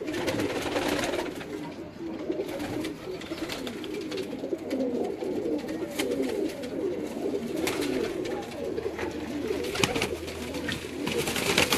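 Chapra pigeons at a fancier's home loft in Multan coo continuously, many birds layered into a thick, steady murmur with wingy rustles, close and fairly loud throughout.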